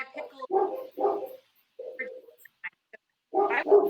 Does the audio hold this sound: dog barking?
yes